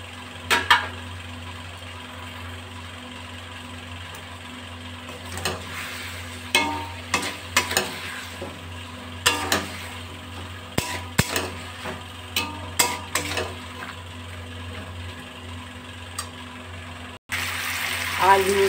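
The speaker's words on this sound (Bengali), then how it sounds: "এবার আমি ভাজা সোয়াবিনগুলো দিয়ে দেব।" Fried soybeans stirred into a sizzling potato and papaya curry pan, a soft continuous frying hiss punctuated by a series of sharp spoon scrapes and knocks at irregular intervals, ending in a louder burst of sizzle.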